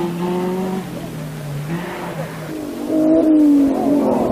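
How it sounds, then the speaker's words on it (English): A Datsun rally car at speed on a Finnish gravel rally stage in 1973: loud engine roar with shifting pitch as it revs, drops and climbs again, close and continuous. "Shaker Metta's growing confidence in the Datsun proves it's not only the Finns who can yump"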